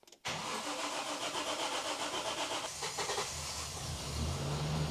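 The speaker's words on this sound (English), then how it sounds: "Can we start the car?" A car engine cranks and catches right away, then settles into a steady idle, loud and close with no talking over it; the vehicle has just had its power cut and reconnected.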